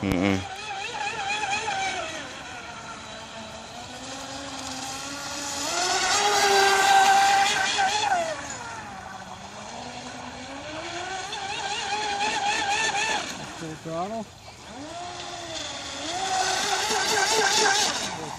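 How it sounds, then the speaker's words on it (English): A Hobbyking Hydrotek F1 self-righting RC boat running at full throttle on water, its small motor whining high and steady, rising and falling in pitch as it speeds and turns past, fairly close. "Full throttle now."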